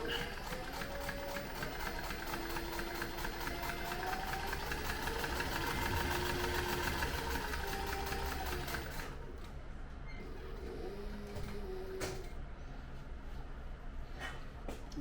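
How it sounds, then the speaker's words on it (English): Sewing machine stitching a leather zippered tote bag, running in a steady mechanical whir through most of the stretch and then pausing with the needle down before short bursts resume near the end. "stopped it with the needle down in the leather, make my 90-degree turn, and continue on"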